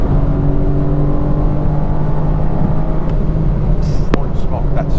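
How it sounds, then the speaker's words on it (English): A 2021 BMW M4 engine drones at high revs, a loud steady low mechanical roar held near the limiter inside the cabin, with a brief sharp click near the end. "You bring it all the way to the rev limiter"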